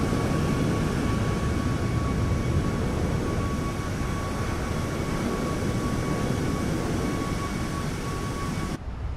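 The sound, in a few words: iFly 737 MAX jet exterior sound, Microsoft Flight Simulator 2024 video game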